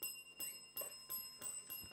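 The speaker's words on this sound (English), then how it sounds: "that bell signifies the end of this, our first semi-final match" Quiz show bell marking the end of a junior schools' semi-final match, ringing in several bright repeated strikes with clear gaps, faint and alone.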